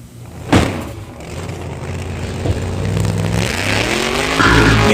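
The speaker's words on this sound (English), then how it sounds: "Let's rev this baby out of the box." Motorcycle engine revving effect from a Batcycle toy, a loud sustained engine roar that climbs steadily in pitch after a sharp click, heard up close with no talk.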